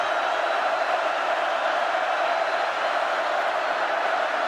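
Homecoming football crowd at a Florida at Missouri game in a stadium, a broad, steady roar of distant cheering that fills the whole stretch without pause.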